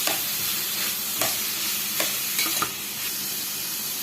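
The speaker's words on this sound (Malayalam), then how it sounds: "ആ നെയ്യിലേക്ക് നമ്മൾ ഗ്രേറ്റ് ചെയ്ത് വെച്ചിരിക്കുന്ന ക്യാരറ്റ് ഇട്ട് കൊടുക്കാം നന്നായിട്ടൊന്ന് മിക്സ് ചെയ്യാം" Grated carrot is stirred and fried in ghee for carrot halva: a continuous close sizzle with a few scraping strokes of the spoon spaced across the pan.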